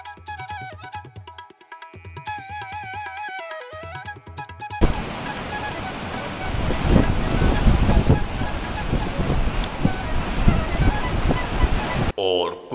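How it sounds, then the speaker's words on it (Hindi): The Swat River surges fiercely in Kalam, Pakistan, a loud, steady roar of rushing water with wind buffeting the microphone, following a stretch of music at the start. "दराए सवाद की खौफनाक लहरों को देखकर एंजॉय करते हुए।"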